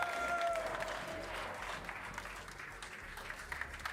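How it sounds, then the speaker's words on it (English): A crowd at a CS:GO grand final applauds for the Mouse Sport team, a fairly faint, steady wash of clapping with a brief tone near the start. "Round of applause for Mouse Sport."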